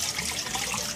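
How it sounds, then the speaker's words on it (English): Water runs from a tap into a cast iron sink during cast iron cleaning, a steady close splashing stream with no pause and no talk. "turn the water on"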